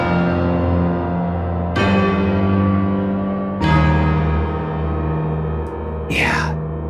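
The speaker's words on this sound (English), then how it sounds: "Tubular bells." Tubular bells from the Vienna Symphonic Library Big Bang Orchestra (Fornax) ring out in three loud, sustained strikes about two seconds apart, each with long shimmering decay, ending with a brief swooping high sound.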